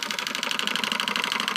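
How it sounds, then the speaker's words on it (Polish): A homemade model steam engine runs on its own, giving a fast, even train of light mechanical chuffs and ticks at a steady rhythm, close and fairly quiet, with no voices. "O, proszę bardzo, wystartował. I tak się kręci silnik."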